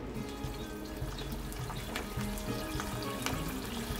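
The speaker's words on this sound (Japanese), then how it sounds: "で中火にかけたらここに油揚げも入れていきます。" Fried tofu pouches cook in simmering soy-based seasoning liquid with sake and mirin in a pan over medium heat, a steady close bubbling sizzle with soft wet crackles throughout.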